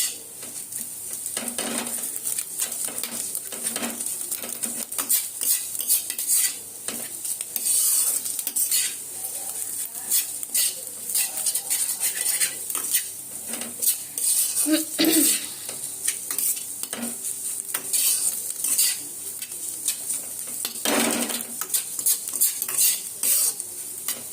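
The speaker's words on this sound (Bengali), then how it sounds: "ডিমের ভুজিটা অলমোস্ট হয়ে গেছে, আর একটু ভাজা ভাজা হয়ে গেলে আমি পাস্তাটা দিয়ে দেবো।" Scrambled egg fries in a pan for egg pasta, a constant sizzle broken by repeated scrapes and clinks of a metal spatula stirring against the pan, with no talking.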